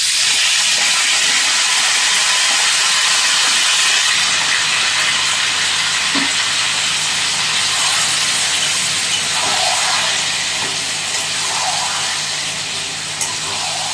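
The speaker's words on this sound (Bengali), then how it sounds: "তো ভালো করে মাংসটা কষিয়ে নেব।" Marinated mutton and browned onions sauté in a pan with a loud, steady broadband sizzle that holds throughout, easing slightly toward the end, with faint stirring knocks.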